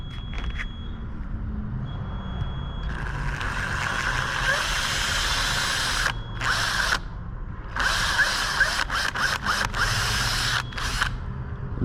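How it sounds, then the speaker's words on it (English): A power drill bores into a split wooden door jamb close by, whining in several bursts with brief pauses, while a low engine-like hum runs underneath. "I'm drilling about 1/4 of an inch"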